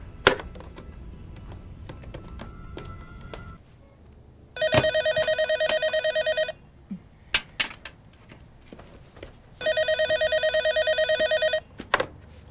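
An electronic telephone ring sounds in two long bursts separated by a pause, with faint clicks and handling noises in a quiet room.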